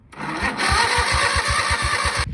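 An old garden tractor engine cranking on the starter after sitting unused, a fast rhythmic chugging of even turns for about two seconds, close and loud, then stopping abruptly.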